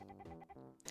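A chicken character in the Froggonit video game demo gives a short run of soft, bright clucks lasting about a second, quiet and alone with no talking.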